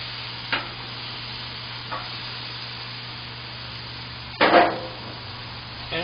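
Bear meat kabobs brushed with barbecue sauce sizzle on a grill as they are turned, with three scraping, hissing bursts, the last and loudest near the end, over a steady quiet frying hiss.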